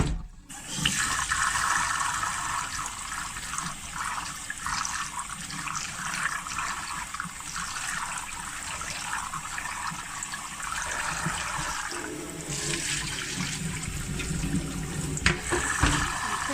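Water splashing and pouring as mung dal lentils are rinsed in a pot, a steady close washing sound running throughout with a brief pause and a louder swish near the end.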